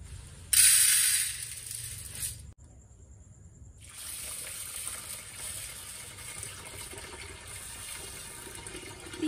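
Water pours into a container to soak lentils, a loud gushing burst that cuts off and then gives way to a quieter trickling flow and some faint handling, close by, with no talking.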